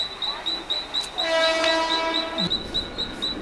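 A fast train arriving at a station sounds its horn over a steady high-pitched whine and rumbling rail noise, with a long tonal blast in the middle.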